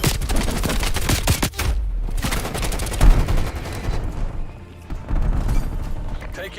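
Rapid bursts of hand cannon gunfire and booming impacts in an online shooter video game, loud and nearly continuous with a short lull, under excited talk from a player.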